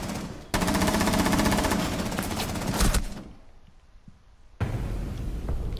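Rapid automatic gunfire in a tactical shooter game, a sustained loud burst of several seconds, a short lull with faint noise, then another burst of shooting.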